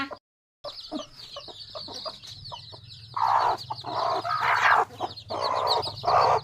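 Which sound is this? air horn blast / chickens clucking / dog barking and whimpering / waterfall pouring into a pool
chickens clucking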